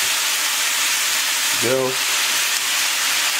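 Pasta and a splash of water hit a hot, oiled pan while making carbonara, giving a steady, loud broadband sizzle throughout, with a brief spoken word partway in.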